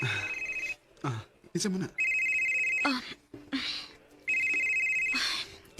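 A telephone rings in repeated bursts, loud and near, while people talk over and between the rings.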